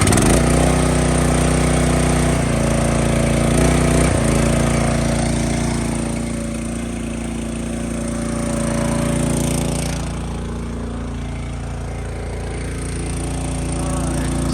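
A wood processor's engine, warmed up after a cold start, holds a loud, steady running drone that lifts slightly in pitch near the start, then settles into a constant roar with slight swells.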